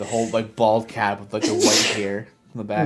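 One person sneezes sharply in the middle of casual conversation, the burst standing out briefly between stretches of close-miked talking voices.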